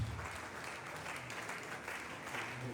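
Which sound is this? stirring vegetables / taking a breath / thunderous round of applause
thunderous round of applause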